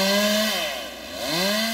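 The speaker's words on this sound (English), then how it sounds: "Crews with chainsaws and a cherry picker made short work of the trees." Chainsaw cutting down mature city trees, a loud close engine whine that dips in pitch as it bogs into the wood, then revs back up.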